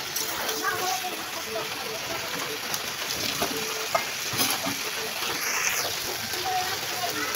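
Bora fritters sautéed with spices in a pan, a soft continuous sizzle with occasional stirring scrapes, fairly faint and close, with a voice talking over it at times.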